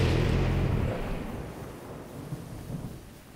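Rain and rolling thunder in the Zelda: Breath of the Wild video game, a loud low rumble at the start that fades into steady rainfall, with no speech.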